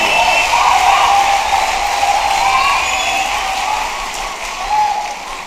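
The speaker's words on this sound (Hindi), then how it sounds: "एक बार जोरदार तालियां उठा दे हवा में।" A large audience at a poetry recital at IIT Delhi applauds loudly and steadily, a dense wash of clapping that keeps going the whole time, with a brief swell near the end.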